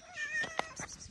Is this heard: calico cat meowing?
yes